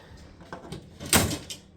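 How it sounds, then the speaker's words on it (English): A drawer is pulled out during household repairs: a few light knocks and scrapes, then a sharp wooden slide and clunk in the middle, fairly close, with no talking. "Now watch, this drawer should come right out."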